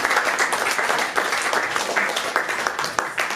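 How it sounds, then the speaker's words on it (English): An audience at a storytelling night applauds after a speech about a dad, giving sustained, moderately loud clapping from many hands with no voices over it. "Let's give him another round of applause."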